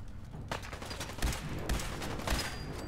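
Rapid gunfire from several directions in the video game Fallout 4, a sustained crackle of shots with a few heavier reports standing out, at moderate distance.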